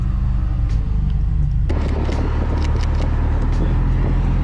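During a street photo shoot, a JDM car drives past with a deep, steady engine rumble that grows heavier partway through, loud and close with no voices.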